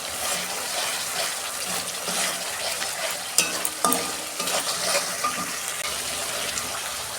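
Ground cumin and coriander masala sizzles steadily in hot oil for a doi pabda fish curry, with soft scraping stirs and a few sharp clinks of the spoon against the pan.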